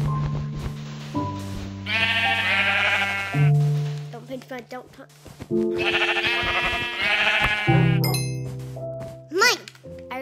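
Bleating from a sheep in a video game, a sheep being hunted for its wool, comes in two loud wavering bursts among chimes and other game effects, with people talking throughout.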